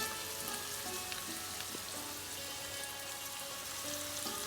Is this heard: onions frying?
yes